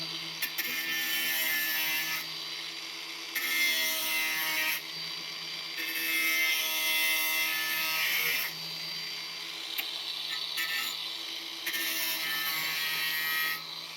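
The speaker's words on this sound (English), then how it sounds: "What we're going to do is just clean up some of these sharper edges with the grinder." An angle grinder smooths sharp edges on a metal motorcycle tail tidy in repeated passes of a few seconds each, its whine rising as it bites and easing between strokes, close by without speech.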